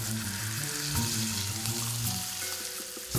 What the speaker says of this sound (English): we're gonna sear it on each side for about 4 or 5 minutes